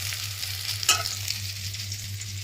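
Spiny gourd (kakrol) frying in a home kitchen pan, a steady hiss of hot oil with a low hum beneath and one brief sharp pop or stir partway through, close and continuous with no talking.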